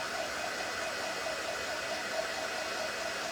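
A hair dryer blows a steady, even rush of air close by to dry freshly painted nail polish, continuous and unbroken for the whole stretch with no talking.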